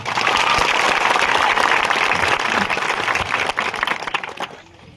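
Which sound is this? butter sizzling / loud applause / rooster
loud applause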